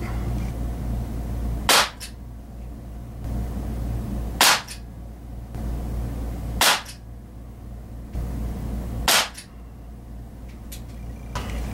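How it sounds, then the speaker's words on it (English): Four sharp shots from a Crosman 357 CO2 pellet revolver fired at a target from 18 feet, evenly spaced about two to three seconds apart, crisp and close over a steady low background hum. "And now we'll do a little target shooting from 18 feet."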